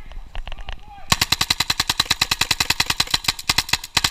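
Paintball guns rattle off rapid suppressive fire during an outdoor woodsball game, a loud, close, steady burst of about twenty evenly spaced shots following a few scattered pops.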